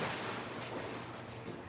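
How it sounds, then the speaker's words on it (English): Broadband splashing and sloshing of pool water as a dog tumbles into a swimming pool, a steady wash of noise at close range with no talk. "Splashes everywhere."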